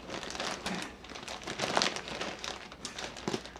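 Dull scissors snipping and struggling through plastic packaging of a crochet kit, a close run of crinkling, crackling cuts with uneven rhythm and no talk.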